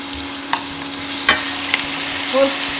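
Three large finely chopped onions sautéing in a pan for Maharashtrian spicy shrimp rice, a low steady sizzle with a constant hum beneath and a few sharp scrapes of a spoon stirring at intervals.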